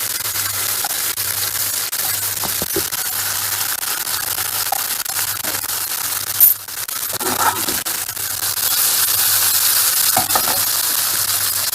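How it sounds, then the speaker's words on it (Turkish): Steady sizzling of cauliflower frying in a little oil in a pan, with occasional clinks and stirring sounds, close by, no talking. "Çok böyle bol yağın içinde kızartmayacağız."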